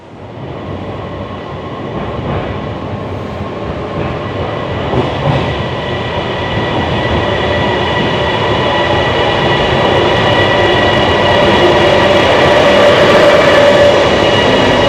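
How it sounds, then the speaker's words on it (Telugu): A Bangkok Airport Rail Link train pulls into a station, its loud rumble and metallic whine building steadily and staying close over about fifteen seconds, with no voices. "7:17కి ఒక ట్రైన్ వస్తుంది."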